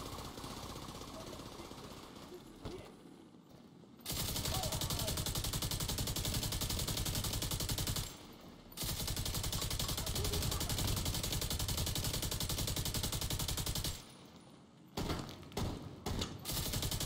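Shotgun gunfire in the video game The Division 2 comes as long, dense, rattling bursts with short pauses between them, loud and close, with no talking.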